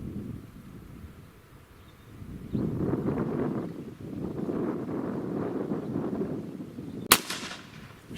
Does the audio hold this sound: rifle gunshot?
yes